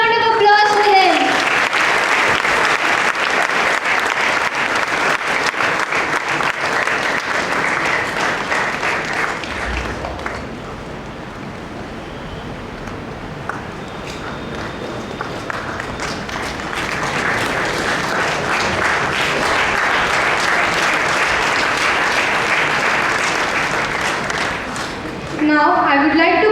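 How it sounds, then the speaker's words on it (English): A ceremony audience applauds in long sustained rounds, dense clapping that fades to a lull midway and then swells again before stopping. "Please a big round of applause for them."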